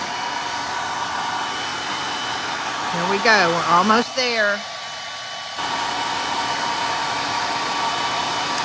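Two hair dryers run together, blowing steadily to dry milk paint, a constant broadband whoosh that holds throughout and briefly cuts out before resuming, with a person speaking over it partway through.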